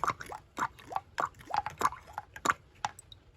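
Engine oil dripping off the removed valve cover parts of a Mazda Miata, a close run of about a dozen small wet plinks and squishy drops in an irregular rhythm over a quiet background.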